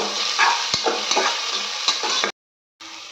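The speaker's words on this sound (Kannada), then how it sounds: "ಫ್ರೈ ಮಾಡೋಣ ಸ್ವಲ್ಪ" Onions and curry leaves sizzle in hot oil in a pan, a steady close hiss broken by several sharp clicks of stirring, then a sudden brief silence before the frying resumes.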